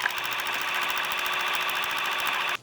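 Sewing machine topstitching around a sleeve hem on a free arm for a sheer button-down crop top, a steady, rapid mechanical whir with even rhythmic stitching pulses running continuously, then stopping abruptly.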